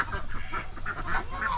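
A duckling gives a quick series of high, thin peeping calls close by, repeating in short, uneven bursts.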